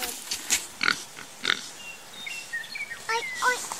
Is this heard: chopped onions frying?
no